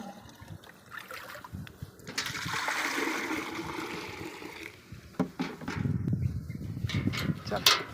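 Water gushes and splashes steadily into a tank close by, with a voice and some rustling around it.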